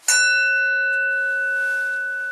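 A single meditation bell struck once during a Buddhist Diamond Sutra practice session, giving a bright metallic strike followed by a long, pure, slowly fading ring in a quiet room.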